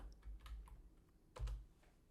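Keystrokes on a computer keyboard as a search query is typed, a few soft scattered taps followed by a louder cluster of clacks, close by with no talking.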